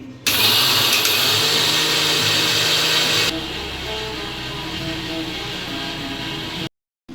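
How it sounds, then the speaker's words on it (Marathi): Kitchen mixer grinder powdering sugar for Diwali sweets, a loud close motor whine and rattle for about three seconds, then a lower steady grind for a few more seconds before it stops abruptly. "मी हे साखरच डायरेक्ट बारीक करून घेणार आणि मग यूज करणार"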